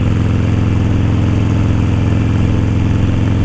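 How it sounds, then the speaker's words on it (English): A motorcycle fitted with a new Dan Moto Highwayman 2-in-1 exhaust idles with a steady, throbbing low rumble, loud and close throughout, with no voices. "Put a brand new exhaust on it. The Dan Moto Highwayman 2-in-1."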